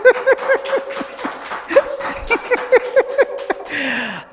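Several dogs bark in quick, irregular bursts, close and loud, with a whimpering yelp near the end; no one speaks.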